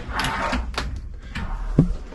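Drawers on a 50-foot Privilège Serie 5 catamaran slide open and shut several times, close and fairly loud, ending in a sharp thump as one closes.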